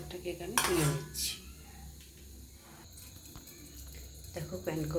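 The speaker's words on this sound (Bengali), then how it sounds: "এইভাবে প্রত্যেকটা কেক আমি তুলে নিচ্ছি।" Pancakes are lifted one by one out of an appam-style pancake maker, with close metallic scrapes and clinks of a utensil against the pan and a faint sizzle, with a soft voice heard in between.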